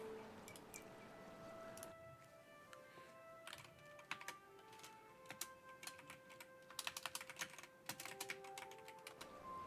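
Typing on a computer keyboard, with quick irregular bursts of close key clicks that grow busier toward the end, faint and without talk.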